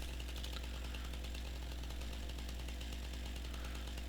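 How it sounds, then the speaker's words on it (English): Chainsaw cutting trees in Farming Simulator 19, a constant buzzing engine drone with no pauses, fairly faint and steady throughout. "it's time to get the chainsaw busy"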